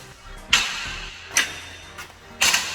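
Three sharp metallic clanks of a gym machine weight stack slammed down land about a second apart, loud and close, with quiet gaps between them and no talking.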